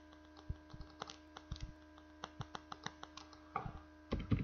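Typing on a computer keyboard, a steady run of distinct close key clicks at an uneven pace, with a denser flurry of keystrokes near the end, over a faint steady hum.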